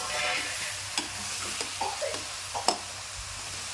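Chopped tomatoes frying in a pan for village-style palak pulao, a soft steady sizzle broken by several scraping stirs of a spoon against the pan, close and fairly quiet.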